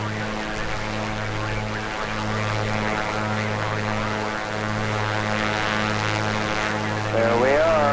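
Steady propeller-engine drone of a Piper Comanche 250 in a flight simulator, a continuous loud hum with strong low harmonics lasting throughout, with a slight rise in pitch near the end.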